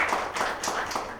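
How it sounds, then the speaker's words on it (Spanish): A short burst of scattered clapping from an audience at a book presentation at the University of Guanajuato, welcoming a speaker, with a few distinct claps and faint murmur underneath. "primero un aplauso para la doctora"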